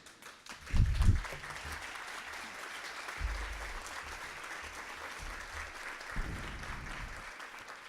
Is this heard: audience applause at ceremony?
yes